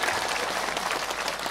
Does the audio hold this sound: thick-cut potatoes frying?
no